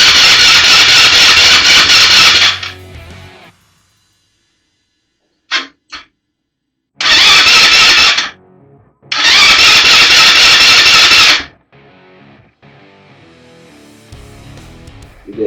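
An old Chinese quad that sat for years cranks and starts, loud and close, running in a few rough surges that die off, with brief sputters and quieter gaps between attempts.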